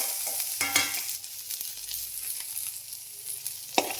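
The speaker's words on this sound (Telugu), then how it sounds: "ఆనియన్ కొద్దిగా వేయించుకుందాం." Onions fry in a pan for tamarind chutney, a soft steady sizzle broken by occasional scrapes and clinks of a spoon stirring, fairly quiet and close with no talking.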